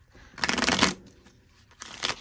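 Tarot cards are shuffled by hand in two quick bursts of riffling and sliding, close and crisp, with a short quiet pause between.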